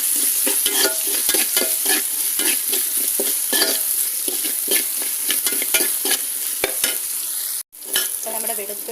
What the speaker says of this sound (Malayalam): കായം, കറിവേപ്പില, പച്ചമുളക് ഇതെല്ലാം നന്നായിട്ട് വഴന്ന് വന്നിട്ടുണ്ട്